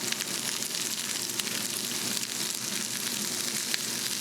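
Filet mignon steak sears in a hot pan with a steady, loud, close sizzle that holds without pause, no voices present.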